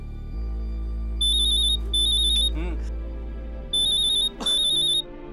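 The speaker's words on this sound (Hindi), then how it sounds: "हाय रेचल, कहाँ हो यार, कब से फोन कर रहा हूँ?" A telephone rings in repeated electronic bursts, two short trilling rings, a pause, then two more, over a steady low hum in an indoor scene from a Hindi crime drama.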